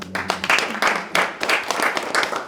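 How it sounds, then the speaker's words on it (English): A crowd applauds in dense, broadband bursts of clapping that swell and ebb several times, loud and close, with no talking over it. "So big round of applause."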